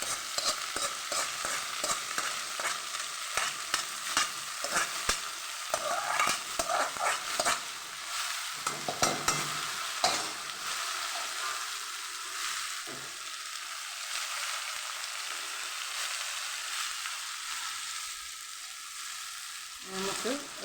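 Spinach, potato, green chilli and onion stir-fried for a Kerala palak thoran give a steady soft sizzle with irregular scraping and stirring clatters near the pan, quieter toward the end.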